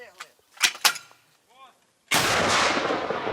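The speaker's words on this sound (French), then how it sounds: "Premier coup de canon contre des cibles russes." Cannon fire at Russian targets in Ukraine: after a few scattered short knocks and a brief voice, a single loud blast erupts and rolls on as a sustained roar, close and powerful.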